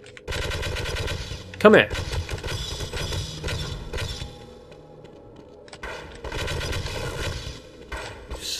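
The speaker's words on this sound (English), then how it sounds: "I'm busting out the Hornet gun, the alien arm." Alien Hornet gun firing in the video game Half-Life, rapid buzzing bursts in several runs with a sharp impact early, while a voice speaks briefly over the action.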